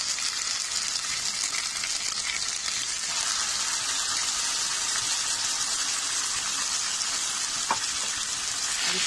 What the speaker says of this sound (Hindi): इसको अच्छे से भून लेंगे मसाला को